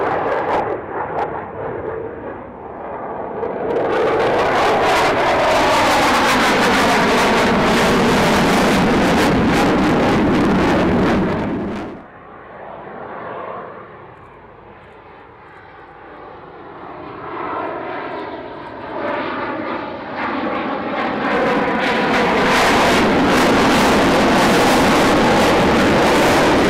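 Aircraft engine roaring loudly close by as a plane comes in to land after an air display, swelling to a broad rumble, easing off briefly, then building again to full volume.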